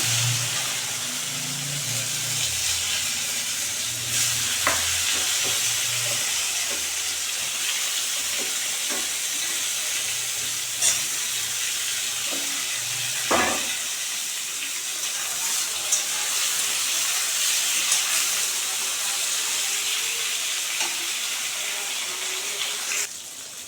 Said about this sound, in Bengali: এখন বেগুনগুলি ভেজে নেব